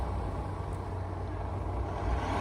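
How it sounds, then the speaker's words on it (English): A car drives past on a countryside road, a soft low engine and tyre rumble that swells gently toward the end, heard from a distance with no talking. "apart from when you hear cars going past, like that one"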